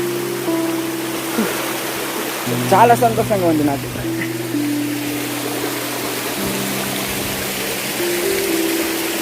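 A small mountain stream trickles steadily over rocks at a trekking spot in Raikal near Warangal, a soft constant wash of water under a voice that talks throughout.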